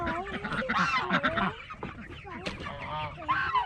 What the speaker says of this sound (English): The ducks are loud as ever